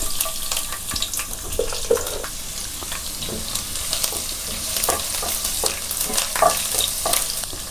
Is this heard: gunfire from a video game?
no